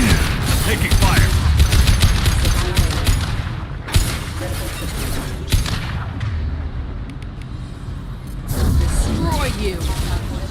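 Mass Effect 2 gunfire crackles in dense, rapid bursts throughout, with heavy booming impacts and other game effects layered underneath, and voices talk over the firefight.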